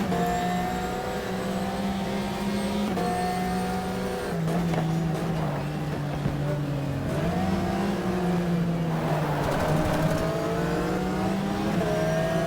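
Race car in GTR 2 at full throttle during a Pan Euro RS 2004 Rookie Cup race, engine droning steadily with pitch dropping at gear changes and climbing again, a faint tire squeal, close and continuous without talk.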